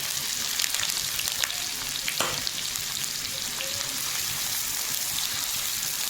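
Chopped onions sizzle and crackle steadily in hot oil with cumin in a pan, a dense close frying hiss with a few brief stirring scrapes, no talk.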